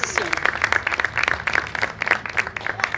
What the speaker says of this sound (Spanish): también un fuerte aplauso por esta gran decisión